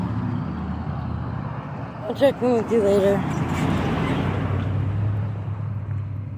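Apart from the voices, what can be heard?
loud trucks and motorcycles passing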